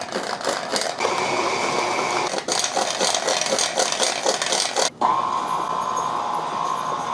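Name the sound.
electric mixer mixing powdered sugar into cake frosting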